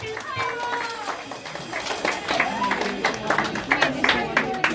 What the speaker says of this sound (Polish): Brawa dla Igora. Takie głośne!